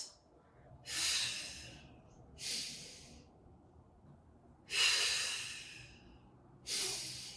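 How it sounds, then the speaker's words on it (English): Four slow, airy breaths near the microphone during a Pilates core exercise, alternating exhales and inhales with quiet pauses between each. "you can hear exhaling, inhaling, exhaling, and then inhaling"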